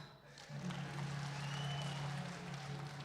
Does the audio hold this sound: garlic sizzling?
no